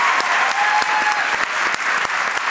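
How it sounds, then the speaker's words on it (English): Steady applause from a crowd, dense clapping throughout with a few sharper individual claps standing out, continuous and fairly close for the short stretch. "vodka deserves some applause"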